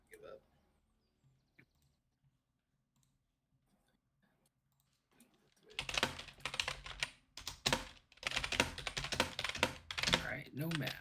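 Rapid clatter of computer keyboard typing during a gaming session, starting after a quiet stretch and continuing in dense, irregular bursts of clicks to the end, fairly close.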